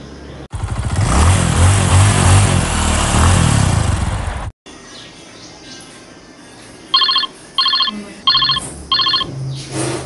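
A phone ringing in a family home: four short, evenly spaced bright rings after a burst of loud engine-like noise that stops abruptly.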